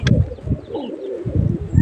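A pigeon or dove coos repeatedly nearby, low throaty bursts in a steady rhythm with short pauses, fairly loud and alone.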